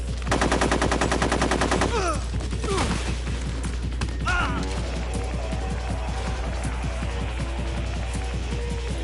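Machine gun fire in Metal Gear Solid 3: Snake Eater, a rapid crackling burst up front followed by scattered shots and busy combat noise, with voices partly audible underneath.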